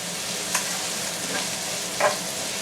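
Onions sweating for an oxtail ragu, giving a steady, close frying hiss with a couple of brief clinks or scrapes standing out, no talking.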